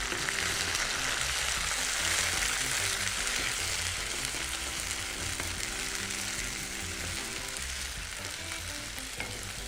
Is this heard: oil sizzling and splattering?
yes